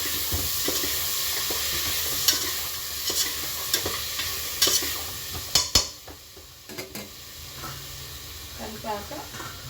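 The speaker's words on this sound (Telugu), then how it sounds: "టమాటాలు వేసుకున్నాక సాల్ట్ వేద్దాం. కొంచెం కలిపేద్దాం." A spoon stirs tomatoes and salt into lentils cooking with bachali leaves in a pan, scraping steadily over a constant sizzle, with a few sharper clinks against the pan; a voice talks faintly now and then.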